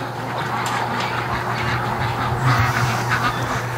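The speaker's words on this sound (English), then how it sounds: "The duck train comes home." Muscovy ducks quack in a steady low chorus as they waddle home together in the evening, a busy continuous murmur of calls close by with a few louder quacks near the end.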